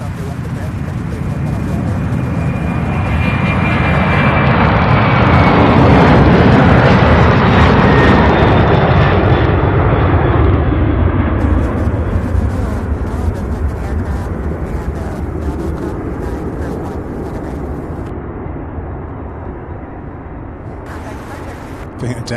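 Jet engines of a UPS heavy cargo aircraft at Louisville airport's Worldport roar loudly and steadily, swelling as the plane moves past and slowly fading, with a faint voice speaking beneath.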